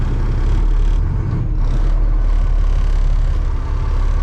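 An International snow plow truck's engine running, a loud, steady low diesel rumble throughout with slight fluctuations, close up and without voices.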